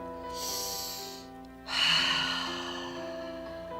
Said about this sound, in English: Deep breaths in through the nose, deep breaths.